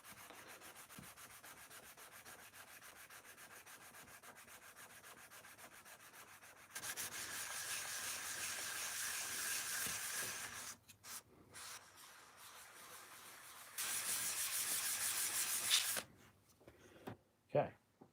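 Tamiya putty on a designer toy sanded flat with 320 grit sandpaper, with several bursts of rough, hissing scrubbing that start and stop, loud and close, over a quiet background.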